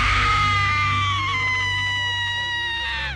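A woman screams loudly and piercingly, a single sustained shriek held for about three seconds that slowly falls in pitch, close and alone.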